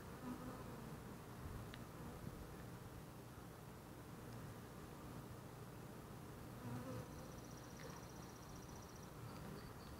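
Honeybees buzz steadily around an open Flow Hive with pollen and brood, a soft, continuous hum at low level.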